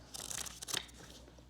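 A book is opened and its paper pages are turned, giving brief, faint, close rustles and crisp flicks in quick succession.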